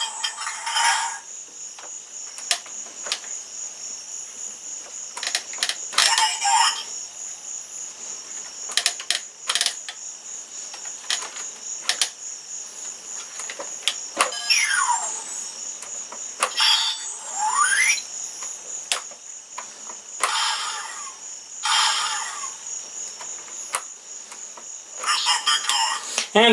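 A Transformers Titan Returns Fortress Maximus toy plays electronic sound effects: a steady high synthetic tone punctuated by repeated clicks and short warbling, laser-like sweeps, close and moderately loud.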